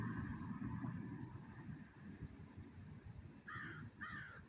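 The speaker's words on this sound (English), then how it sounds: "Hey, the Crow talking" A crow caws twice near the end, two clear harsh calls close together, over steady low rumbling background noise throughout.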